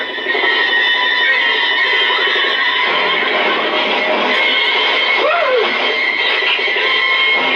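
A wild horse caught with ropes whinnies amid a loud, constant noisy background, the rising and falling neigh cutting through briefly in the middle.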